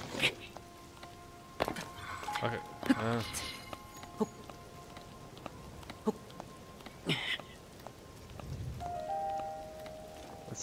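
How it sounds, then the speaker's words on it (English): Rain falls softly in a video game, a faint steady patter beneath chimes, tones and other game effects that come and go over it. "Still raining."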